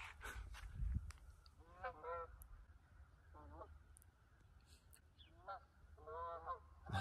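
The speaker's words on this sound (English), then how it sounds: "I don't know if you guys can hear there's some birds." Geese honk in several short bursts outdoors, with faint talk and low background noise in between.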